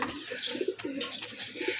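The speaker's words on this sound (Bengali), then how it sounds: "নর দুটি ভালো একটা কবুতর।" Male pigeons, big-sized black racer males, coo in a series of soft, low rounded calls, some overlapping, with faint chirps above.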